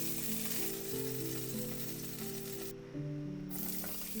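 Chopped onion sizzles in a frying pan that was just used to cook chicken. A steady close crackling fry runs throughout, with a faint stirring scrape and no talking.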